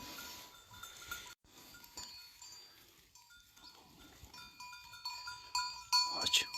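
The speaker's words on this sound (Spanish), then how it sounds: "¿Cómo le pegan las cabras ahora a esta hierba?" Verata goats graze out in the open, bells clinking on and off with soft rustling, growing louder and busier toward the end.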